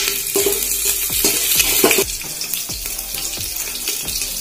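Cashews, green chili and ginger fry in hot oil for venpongal, a loud steady sizzle with crackling bursts and the scrape of stirring running throughout.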